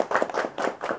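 An audience claps hands together in a short, rhythmic burst of about four claps, fairly close and loud, during a Sundanese-style group clap.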